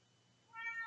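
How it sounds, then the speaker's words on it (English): A pet cat gives one short, faint meow that rises out of quiet room tone near the end. "Also, I apologize for my cat."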